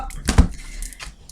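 A deck of tarot cards being cut by hand, giving one brief papery slap and shuffle near the microphone, followed by a fainter rustle of cards, with no talking.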